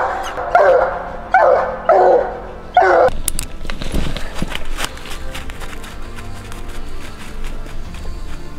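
A hound bays and barks at an animal it has treed, four loud, evenly spaced bursts near the start, followed by rustling and scattered movement noises with no further barking.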